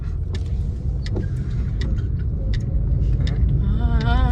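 A car rolls along at slow speed during a driving lesson, its steady low engine rumble continuous throughout, with people talking over it and a brief warbling tone near the end.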